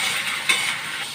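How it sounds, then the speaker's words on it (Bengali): Okra fries in hot oil with salt in a wok, giving a brief steady sizzle with a slight stirring scrape, close and moderately loud. "একটু নুন দিয়ে এগুলো ভাজবো।"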